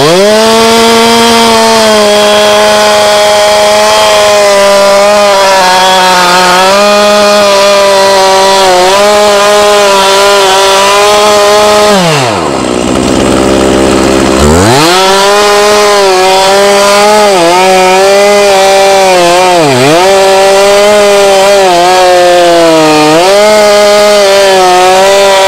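Chainsaw roaring at full throttle while felling a tree, a loud sustained whine that dips sharply once as the engine bogs, then climbs back to high revs with small wavering dips.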